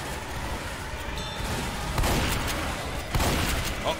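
Gunfire in the Left 4 Dead video game, with a steady crackle of shots and two heavier bursts standing out partway through. A rough, noisy game background runs underneath.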